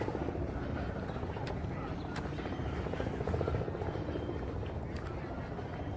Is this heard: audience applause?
no